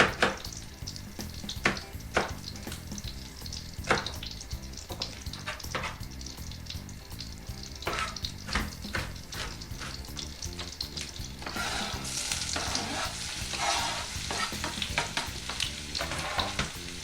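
Onion fries in butter in a pan with a steady close sizzle, stirred with scattered utensil knocks, the hiss growing brighter and more intense toward the end.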